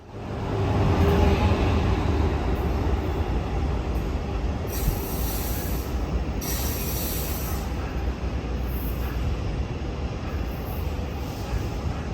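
A Brightline passenger train, Siemens Charger locomotive hauling Venture coaches, rumbles past close by with a loud, continuous roar, wheels clattering and occasional high squeals, steady throughout.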